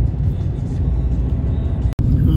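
Vehicles rumbling at a busy camping area in Bahrain, a steady close low traffic drone with one brief dropout near the end, mostly alone with little voice.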